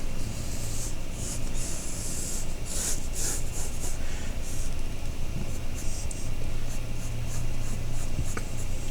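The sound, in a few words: pencil drawing a vase outline on paper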